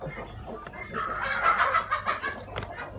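Leghorn chickens on a farm break into a dense burst of squawking clucks that swells in the middle and trails off into a few scattered calls, fairly close.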